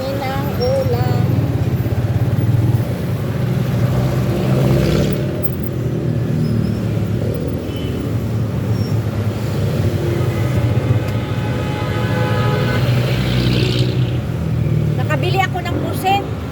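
Busy street traffic at a road junction in the Philippines, with engines idling and revving nearby, a rumbling low drone, and passing vehicles, heard under loud nearby talking.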